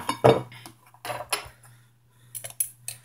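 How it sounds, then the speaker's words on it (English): A plate clinks as it is set down on a table with other dishes and cutlery, producing a few short close rattles and taps over a faint steady hum. "I'm going to put the plate out."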